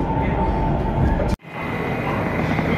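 A Navi Mumbai metro train rumbles and hums steadily from inside the carriage, with a sudden brief dropout midway before the running noise resumes.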